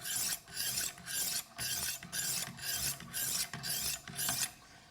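A knife edge is stroked along a sharpening stone on a Wicked Edge guided sharpener, giving a steady rhythm of about eight close, raspy strokes, each a short scraping swish separated by brief pauses.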